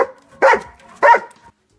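A dog barks at the mail carrier, giving two loud, close, sharp barks with a short pause between them.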